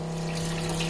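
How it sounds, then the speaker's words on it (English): A SEAFLO 55 series on-demand water pressure pump, rated 5.5 gallons per minute, runs with a steady low mechanical hum beneath rushing water as a faucet flows, continuous and fairly close throughout. "The 55 is an on-demand water pressure pump, meaning that when I open the faucet,"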